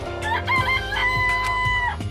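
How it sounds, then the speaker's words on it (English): Chickens clucking and a rooster crowing in the Danganronpa video game, a close, loud, continuous stretch of overlapping squawks and clucks. "Oh, you like chickens too, Makoto?"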